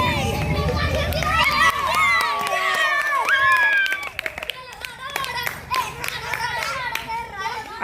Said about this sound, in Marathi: जरा टाळ्या वाजवा यांच्यासाठी